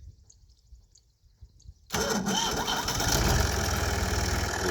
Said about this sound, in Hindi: स्टार्टिंग अच्छी है ट्रैक्टर की,